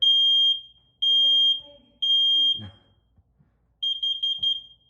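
A combination smoke and carbon monoxide alarm sounds its test pattern: three loud, piercing high beeps about a second apart, a brief electronic voice prompt, then a rapid fluttering beep burst, all close and dominant.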